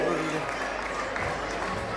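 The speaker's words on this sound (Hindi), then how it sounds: "दर्शकों एक बार जोरदार तालियां हमारे इन प्यारे प्यारे नन्हे मुन्ने बच्चों के लिए" Sustained audience clapping for young children at a school annual function, a steady wash of many hands with crowd murmur, loud and close throughout.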